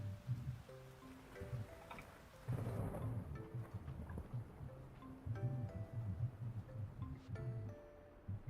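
Steady in-game rain with rolling thunder in the farming game Fields of Mistria, a continuous wash of rainfall over soft low rumbles, with bright chiming game music notes playing throughout.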